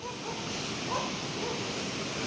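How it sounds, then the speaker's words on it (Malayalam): A small forest river near Nilambur flows with a steady, soft, broadband rushing wash that stays even throughout. "ഇത് ആ പുഴയൊക്കെ കൂടുന്ന പുഴ,"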